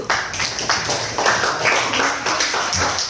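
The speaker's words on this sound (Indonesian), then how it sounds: "Tepuk tangan dulu." Hands clap together in a classroom, a dense burst of applause from a small group of students, close and fairly loud, with rapid irregular claps rising and falling over a few seconds.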